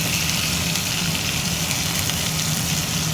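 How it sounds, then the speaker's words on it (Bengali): Boiled pieces of elephant foot yam fry in oil in a wok, producing a constant, dense crackling sizzle, close and fairly loud, with no voices. "এটাকে এবার লাল লাল একটু ভাজা হবে।"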